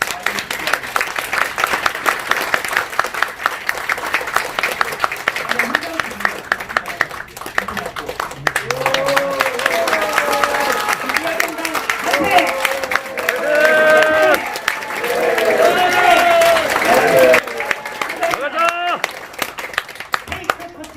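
Sustained applause and clapping from an audience at a party founding ceremony during a flag handover, continuing for a long stretch with cheering and crowd voices rising in the middle and later parts.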